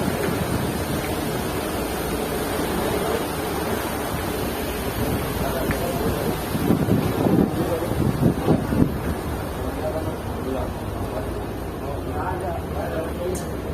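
A passenger ship travelling from Sulawesi toward Surabaya moves fast, heard from the stern deck as a constant roar of rushing wind and churning water. People talk over the noise.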